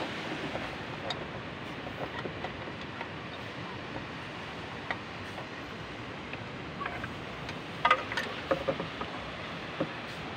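A Yama 7.5 outboard engine drives a plastic boat at sea, a steady broadband drone mixed with wind and water noise throughout, with a few brief knocks near the end.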